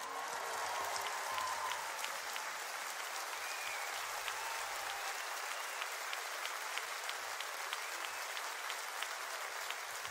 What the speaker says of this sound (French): On applaudit Annie Cordy.